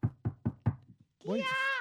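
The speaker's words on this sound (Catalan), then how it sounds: "quan truquen a la porta" Four firm, evenly spaced knocks on a door ring out close by, then a short pause before a voice answers.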